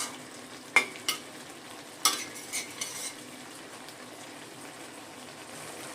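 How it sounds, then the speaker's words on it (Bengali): Lau chingri, bottle gourd cooked with shrimp, simmers in a pan while a spoon stirs it, giving a few sharp clinks and scrapes over a soft, steady bubbling hiss. "নুন চিনিটা মিশিয়ে নিয়েছি, মিশিয়ে একটুখানি 2 মিনিটের মতো ফুটিয়ে নেব।"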